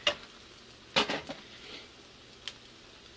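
Chayote fritters frying in a pan with a few sharp clinks and scrapes of utensils, then quiet sizzling with occasional light taps; no talking.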